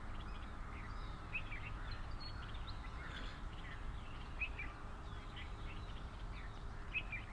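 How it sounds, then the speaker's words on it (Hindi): Birds chirping in a park, Ayub National Park in Rawalpindi, with scattered high calls and tweets over a steady low rumble of background noise throughout. "ये चिड़ियों की चहचहाट,"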